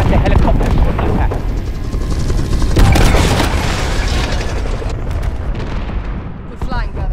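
Helicopter crash and explosions in Call of Duty: Modern Warfare: loud, dense rumbling blasts and crashing debris fill the scene, swelling to a heavy peak midway before thinning out, with voices talking over the din.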